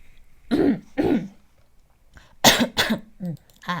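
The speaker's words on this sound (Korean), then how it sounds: "기침이 났어요" A person coughs twice, pauses, then gives a couple more harsh coughs followed by throat clearing, close and fairly loud.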